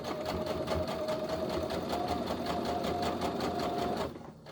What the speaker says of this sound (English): And do a back stitch.